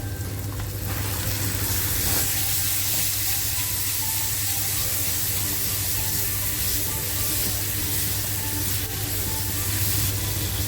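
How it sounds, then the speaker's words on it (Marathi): Tomato tossed into onions frying for a jackfruit seed curry produces a loud, dense, unbroken hiss of sizzling oil that holds steady the whole time, with no speech. "कांदा साधारण लाल झालेला आहे टॅमॅटो टाकते"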